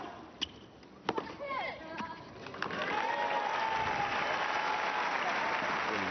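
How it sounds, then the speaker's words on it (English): A Roland Garros tennis crowd at a 2016 women's match breaks into steady, broad applause after a few sharp ball thuds, holding at an even level to the end. "And some generous applause for Teliana Pereira."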